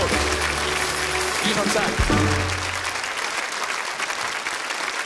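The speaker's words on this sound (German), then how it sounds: "Das ist der Hauptgang-Applaus" Audience applause greets the main course at a Swiss farm-women's cooking competition finale, a dense, steady clatter of hands with voices talking over it, easing slightly in the second half.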